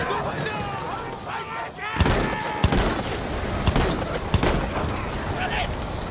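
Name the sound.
gunfire from multiple directions in a video game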